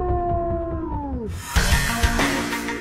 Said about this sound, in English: A strong howl can be heard 10 miles away.